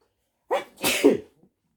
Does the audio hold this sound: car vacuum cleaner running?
no